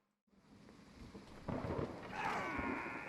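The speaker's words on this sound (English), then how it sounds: "this is what we're talking about with a thunderstorm." Thunderstorm in the Civil War video game Battle Cry of Freedom: after a brief quiet start, steady rain and wind swell into a loud crack and rolling thunder, with the downpour growing heavier and hissing throughout.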